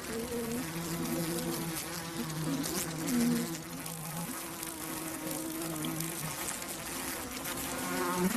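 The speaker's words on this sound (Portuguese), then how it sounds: "as abelhas dominam a invasora, mordendo e ferroando a vespa várias vezes." A dense swarm of bees buzzes loudly and continuously at close range as they bite and sting an invading wasp, the droning hum swelling and wavering throughout with no voices.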